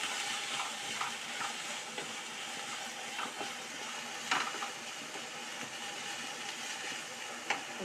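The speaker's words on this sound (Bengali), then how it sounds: "তারপরে দেবো পেঁয়াজ পেস্ট। একটু ফ্রাই করবো, কাঁচা গন্ধ চলে যাওয়া পর্যন্ত।" Onion paste frying in a pan for a begun sundari (aubergine) dish, giving a steady, fairly quiet sizzle with occasional spoon scrapes and clicks against the pan.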